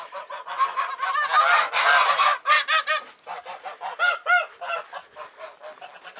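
Several domestic geese honk close by at feeding time in rapid, overlapping bursts, a raucous nasal chorus that keeps going without a break.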